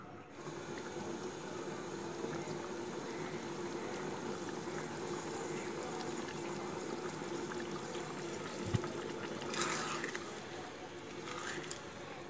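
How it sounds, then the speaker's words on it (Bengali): Chicken rezala gravy enriched with a cup of milk bubbles in a pan, a soft continuous simmering burble with a faint clink partway through. "দুধ দিয়ে ভালো করে মিশিয়ে এটাকে আমি কিছুক্ষণ বয়েল হওয়ার জন্য ছেড়ে দেব।"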